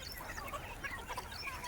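Free-range village hens cluck in a scattered flock on a rural morning, overlapping soft calls at moderate distance with no one talking.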